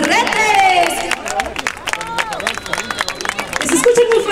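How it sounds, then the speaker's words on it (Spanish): A crowd claps for municipal president Jorge Alberto Elías Retes at a public event in Navojoa, with the applause mixed under loud voices and a hubbub of chatter. "Vamos a darle un fuerte aplauso porque ya está aquí con nosotros."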